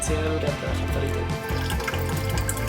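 Tap water runs steadily into a container to make up color film developer at home, a continuous loud rushing splash with no pauses.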